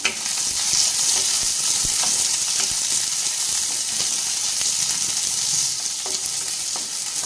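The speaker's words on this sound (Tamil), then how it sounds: "ஒரு பல்லாரி வெங்காயம் எடுத்து வச்சுருக்கேன் அதை சேர்த்துக்கலாம்" Chopped medium onion sizzles and fries in a pan as it is stirred for a horse gram chutney, a loud steady hiss with scraping stirs throughout and no talking.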